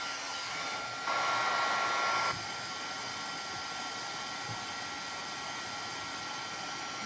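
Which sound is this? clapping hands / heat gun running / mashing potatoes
heat gun running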